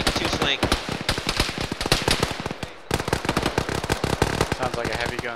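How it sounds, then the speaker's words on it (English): Heavy gun firing in a military video game, a dense run of rapid, loud bursts and cracks filling the clip, with a brief dip near the middle before the barrage resumes. "Sounds like a heavy gun southeast."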